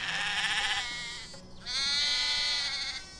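Sheep bleating in a field, two long wavering bleats close by with a brief gap between them, loud and clear with no talking.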